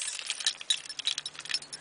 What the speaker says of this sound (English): Don't you hate when your keys get all like this?